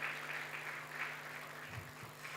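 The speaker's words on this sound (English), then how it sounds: "Can we give him another round of applause, please?" Faint, steady round of audience applause at a Ministry of Defence health program event, a soft even wash of clapping heard from a distance.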